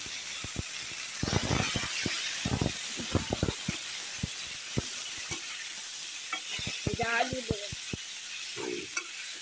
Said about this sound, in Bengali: এখন চাটনি ফোড়ন দেওয়ার জন্য শুকনো লঙ্কা 2টো দিয়ে দিয়েছি, 5 ফোড়ন দিয়ে দিলাম।